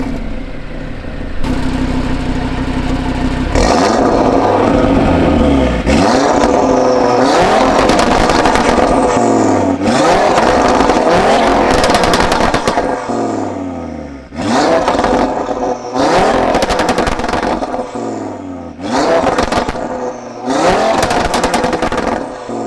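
Loud catless exhaust on an Audi RS3 revving hard outdoors in repeated bursts, each climb followed by crackles and pops as it falls back, with short gaps between runs and no talk.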